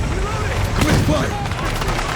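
Dense combat gunfire and booms fill a Battlefield 6 city battle, with continuous overlapping shots and a radio-style voice talking over the noise.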